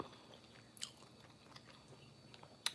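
Close, quiet chewing of crunchy-edged broccoli pizza, soft bites and a few sharp crunches scattered over a low background hiss.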